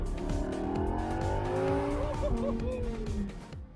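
A Lamborghini Huracan EVO Spyder supercar drives past with a loud engine note rising and falling through gear changes, and faint tire squeal can be heard.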